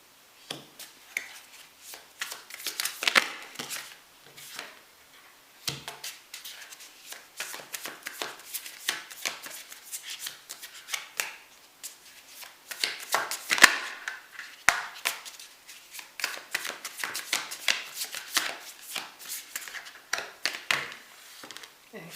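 Tarot cards are shuffled and pulled by hand, giving a long run of quick, dry riffling flutters and soft slaps in uneven bursts with short pauses. The sound is close and there is no talk.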